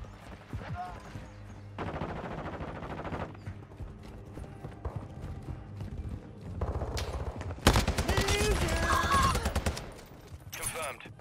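Gunfire in Call of Duty Modern Warfare 2 comes in separate bursts, rapid automatic volleys with a loud, dense cluster near the end, while players talk between shots.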